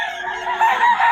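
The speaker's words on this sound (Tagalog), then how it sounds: "Mga manok ng mga taga Pangasinan mga idol." Chickens and roosters from Pangasinan crow briefly and steadily, one loud, fairly close cock-a-doodle-doo with no talking over it.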